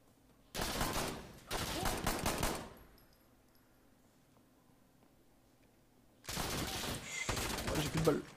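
Rifle fire in the shooter game Insurgency Sandstorm comes in two quick automatic bursts near the start, then a quiet pause, then another long burst of rapid shots, all loud and close.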